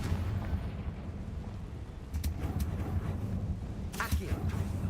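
Confringo spell explosion in Hogwarts Legacy: two brief sharp blasts, one around the middle and one near the end, over a steady loud rumbling game background.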